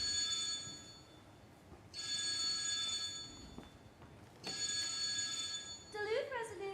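A telephone rings in bursts on a school stage during a junior class play: three long electronic rings separated by pauses, followed by a brief voice at the end.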